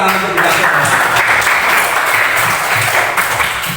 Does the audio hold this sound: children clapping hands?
yes